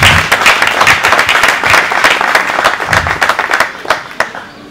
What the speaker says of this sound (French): s'il peut se mettre debout et si on peut applaudir